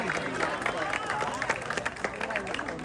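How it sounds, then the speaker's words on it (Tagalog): A beauty pageant audience applauds and cheers steadily throughout, with clapping mixed into a dense wash of voices. "Maaari po ba akong makahingi ng isang masigabong palakpakan?"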